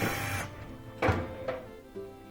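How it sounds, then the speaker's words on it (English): A power driver whirs briefly in several short bursts, close and fairly loud, as two Phillips head screws are backed out of a bracket inside a gas dryer that is not heating. "I'm just zipping out those 2 Phillips head screws."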